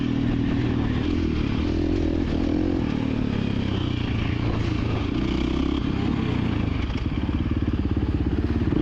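A dirt bike engine drones loud and steady through a cross country race on an open course, with a continuous buzzing roar and a rougher, pulsing throttle note near the end.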